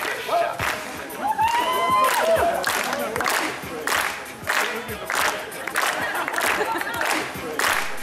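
A crowd at a private university's anniversary celebration applauds and cheers after a cheerleader dance performance, with loud, continuous clapping, whoops and a few whistles early on that fill the whole stretch.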